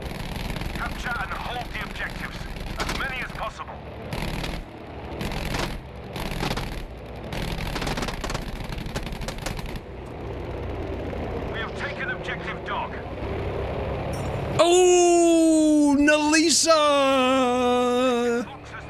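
A fighter plane in Battlefield V drones at first under excited talk and gunfire-like bursts. Near the end a louder, rising and falling propeller-engine whine takes over as the aircraft maneuvers.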